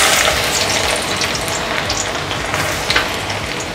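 Bitter gourd fries in hot oil in a Kerala kitchen, a loud continuous crackling sizzle with fine popping throughout, no talking.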